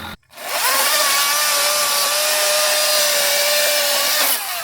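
A power saw, likely a chainsaw, cuts a downed backyard tree log into chunks, a steady loud whine running nearly five seconds after a brief start, then cutting off at the end.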